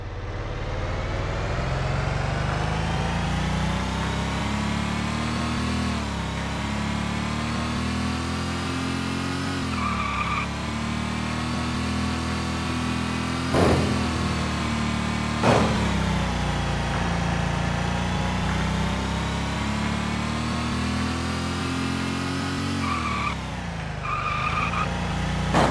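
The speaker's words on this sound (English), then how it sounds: "I was just trying to get the car sound to sound correct." Racing-game car engine from the Unity title Void Racer drones and revs in long sustained sweeps, with tire skids and squeals cutting in, loud and continuous with no voices.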